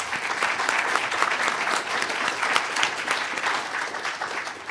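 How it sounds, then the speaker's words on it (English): Audience applause for the speakers at the close of a university social value week event, a steady dense wash of many hands clapping together, sustained and fairly loud without a break. "Just a final round of applause for them"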